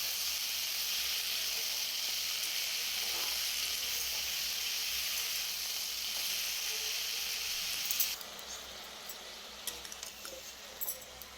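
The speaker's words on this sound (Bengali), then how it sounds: "শাপলাটা এর মধ্যে দিয়ে দিলাম আর এটাকে দিয়ে ভালো করে নাড়াচাড়া করব" Water lily stems fry in a pan with a steady, close hiss of sizzling. The sizzle drops off sharply partway through, and brief clinks and stirring noises follow.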